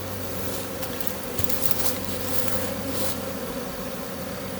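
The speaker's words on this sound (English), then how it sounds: "You see how the bees are content down there" A honeybee swarm at head height on a tree limb makes a steady, dense buzzing drone that stays even throughout, with a few brief louder passes of bees flying close by.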